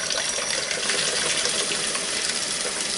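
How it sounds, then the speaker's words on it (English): Warm tap water gushes steadily into two bowls set up for washing raw alpaca fibre, a loud continuous splashing rush that carries on unbroken without any voices. "you're going to want to fill both bowls with warm water"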